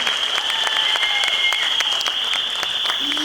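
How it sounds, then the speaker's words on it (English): Audience clapping for young playgroup children standing on stage at a preschool annual day, loud and sustained throughout with a steady high whistle-like tone running over it. "So please give applause for them and they're standing for the stage."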